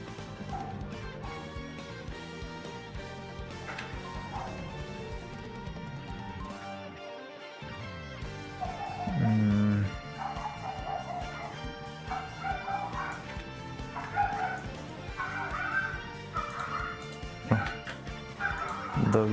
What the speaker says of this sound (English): Doggies are fighting.